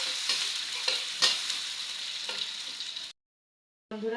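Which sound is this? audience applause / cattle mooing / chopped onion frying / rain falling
chopped onion frying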